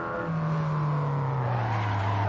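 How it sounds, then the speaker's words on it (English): A light 1960s race car in the Assetto Corsa racing game brakes and drops down through the gears, engine drone falling in pitch with a steady loud tone and no talk over it. "Braking down, shifting down into first."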